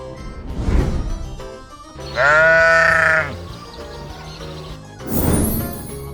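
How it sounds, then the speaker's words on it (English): Two sheep bleats, each a loud wavering cry lasting about a second, separated by quieter farmyard background noise. "Sheep. Sheep."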